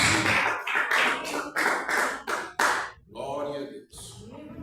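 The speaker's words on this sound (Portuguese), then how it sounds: "As palmas bem alegres para Jesus." A church congregation claps in quick rhythmic bursts during a worship service, loud and close for about three seconds, then a voice speaks alone.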